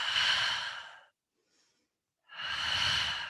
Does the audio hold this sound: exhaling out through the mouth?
yes